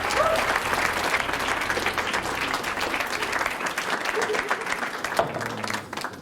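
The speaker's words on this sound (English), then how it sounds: "I'm not sure what that applause was for" Audience applause at a live dessert demonstration, a dense steady wash of many hands clapping at a fairly close range that thins out toward the end, with a few voices mixed in.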